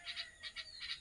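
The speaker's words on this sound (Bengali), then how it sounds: "কাক এসছে," Several harsh bird calls from a crow outdoors, in three spaced pairs of bursts, moderately faint against a quiet background.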